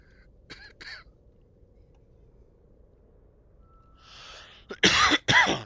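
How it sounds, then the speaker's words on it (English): A person coughs and clears their throat, a short double cough early on followed after a pause by two loud, close coughs at the end, with faint background hum between. "And I can't stop coughing."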